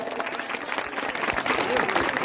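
Villagers at a kirtan week gathering in Tekawade clap loudly together, a thick wash of applause that swells toward the end, with voices and faint musical tones beneath.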